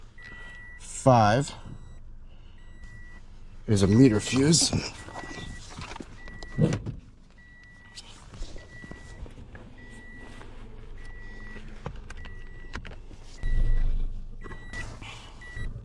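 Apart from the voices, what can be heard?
car warning beep while the car is on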